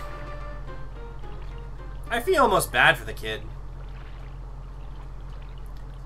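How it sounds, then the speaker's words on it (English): Steady running-water sounds from the Paper Mario video game, with a continuous soft wash and tonal game background throughout, briefly interrupted by a man's short spoken remark in the middle. "These water noises are making me want to use the washroom"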